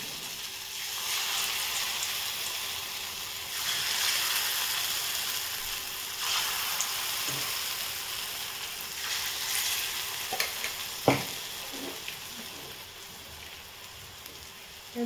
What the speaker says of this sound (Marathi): इथे मी आता पुरी तळलेले तेच तेल आहे त्याच्यामध्येच मी सोडणार आहे भजी.